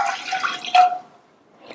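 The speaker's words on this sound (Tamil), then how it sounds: "எடுத்து வச்ச பாலை இந்த பாத்திரத்துல சேர்க்கிறேன்" Milk poured into a cooking pot in a home kitchen, a steady close liquid splash that swells briefly midway, then stops, leaving near silence.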